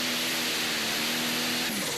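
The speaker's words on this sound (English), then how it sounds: "And listen to those RPMs." A super modified pulling tractor engine screams at sustained high RPM during a Pro Pulling outlaw pull event in Franklin, Kentucky, a loud steady roaring whine with its pitch dipping slightly near the end.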